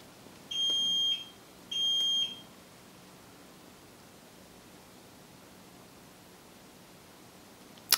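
A Honeywell Galaxy alarm system arming: two loud, steady electronic beeps one after another, followed by quiet background hiss.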